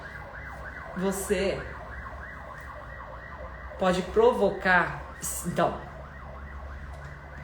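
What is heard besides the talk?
siren passing outside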